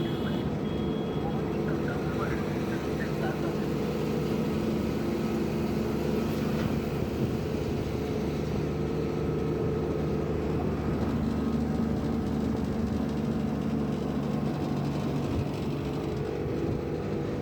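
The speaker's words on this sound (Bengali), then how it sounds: "গাড়ি এখন নদীর ঢালে উঠছে" A petrol and gas powered three-wheeler toto, loaded to about 1,550 kilograms, drones steadily as it climbs a river slope, its engine a continuous close hum under someone talking.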